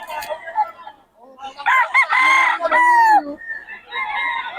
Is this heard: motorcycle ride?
no